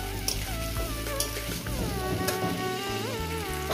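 Green chillies sautéing and being stirred in a pan for a vegetable dal, a steady close sizzle with scraping stir strokes and a low hum underneath.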